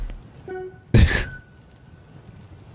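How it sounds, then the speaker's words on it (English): A single sharp sneeze from a person, sudden and loud against a quiet background with faint tonal hum, fading quickly afterward. "What a brilliant time to sneeze."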